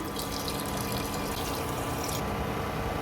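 Steady stream of water poured into a pot for rasam rice, six cups for one cup of rice, a continuous close splashing rush lasting a few seconds.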